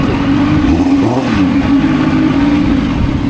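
A Yamaha MT-09 motorcycle with an aftermarket exhaust idles and revs up close, its loud, throaty engine holding a steady burbling tone with a brief throttle blip and rise around the middle.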